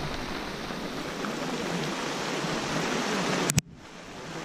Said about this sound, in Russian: Вот пошел град.